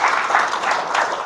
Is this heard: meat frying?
no